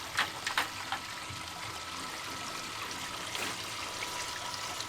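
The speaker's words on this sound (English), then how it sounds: "There's a lot of water in here. What should I do with it? Let me dump a little of this out." Water is dumped from an old bucket, splashing and trickling in a steady pour for several seconds, with a few louder splashes near the start; moderately close, with no talk.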